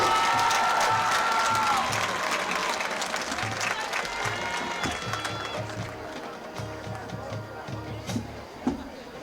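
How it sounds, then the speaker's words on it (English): Crowd applause and cheering in the stands at a high school football game during a homecoming ceremony, broad clapping that starts strong and gradually thins as an announcer's amplified voice carries over the field. "A round of applause for Jillian Perry and Vinny Sitola."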